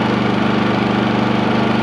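Onan P4500i portable generator engine running on the last of its fuel, a loud steady close-up drone with a fast even pulsing throb and strong low hum.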